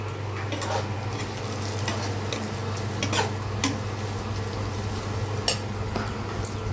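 Garam masala, cinnamon, white cardamom and two bay leaves fry in hot oil for pigeon bhuna, giving a steady close sizzle with a few clinks and stirring scrapes from the pan and no talking.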